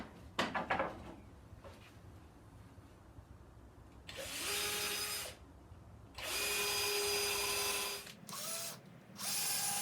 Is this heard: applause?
no